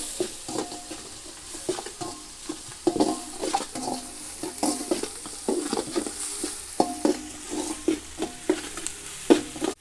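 Onions frying in a pan for a village-style paarai fish curry, a steady sizzle broken by repeated scraping stirs of a spoon against the pan, close and fairly loud, with no voices.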